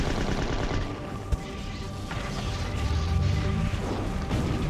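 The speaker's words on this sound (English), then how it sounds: "So we're just going to shoot it from here." In the video game Slave Zero, weapon fire pounds a generator in a dense, rapid barrage of shots over a constant mechanical drone, with one sharper crack standing out early on.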